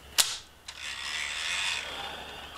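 Ratchet cranking during a steering adjustment, one sharp metallic click followed by a second softer one, then a drawn-out grinding creak of the mechanism that fades, close and fairly quiet.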